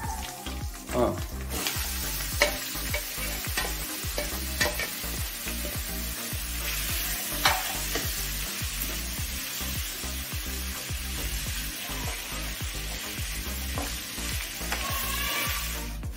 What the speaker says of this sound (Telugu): కరివేపాకు వేగినాక ఇప్పుడు పుట్టగోగులు వేసుకోవాలి